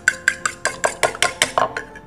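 Photosynthetic bacteria (PSB) mixture shaken and stirred in a container gives about ten close, rhythmic clinking knocks at a brisk, steady pace.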